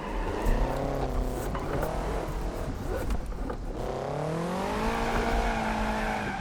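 A mid-engine turbocharged car in the BeamNG.drive driving game, its engine droning steadily with rising and falling pitch as it accelerates and shifts, with occasional tire noise, loud and continuous throughout.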